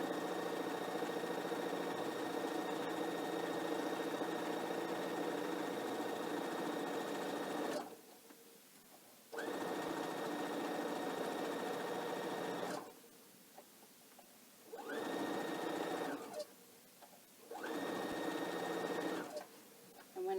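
A sewing machine stitches the corner of a pillowcase, running in long steady whirring bursts with brief pauses between them as the fabric is turned. A person speaks softly during the breaks.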